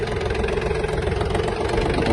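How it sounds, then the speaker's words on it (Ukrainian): A Yanmar F-180 Japanese mini tractor drives off in first gear, its small engine chugging steadily and loudly up close. "Далі перевіримо, як трактор на ходу."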